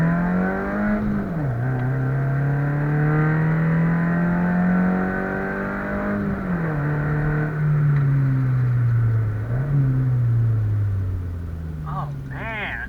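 A Mazda2 with filled engine mounts accelerates hard, its engine droning and climbing in pitch through several gear changes, loud and close from inside the car, with a voice speaking briefly near the end.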